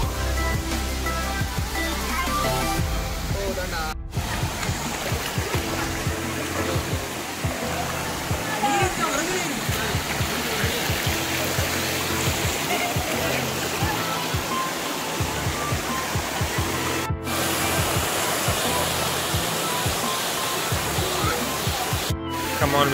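Kabbinale Falls near Ajekar in Karkala taluk pours in a steady, dense roar of falling water that fills the whole stretch without a break, close and loud.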